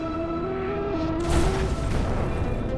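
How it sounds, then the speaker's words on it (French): A deep boom of a bomb exploding near an asteroid bursts out midway over a droning, tonal musical background, followed by a low rumbling tail. "Faisons exploser la bombe avant qu'elle ne touche l'astéroïde de 100 mètres"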